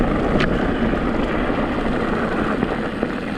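Steady wind roars and buffets against the microphone outdoors at a downhill mountain bike test track in Pitlochry, a dense continuous rush with a few faint knocks and no talk.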